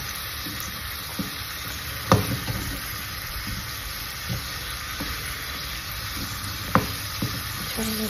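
Modak frying in hot oil, a constant close sizzle with occasional sharp pops and light knocks, no voices.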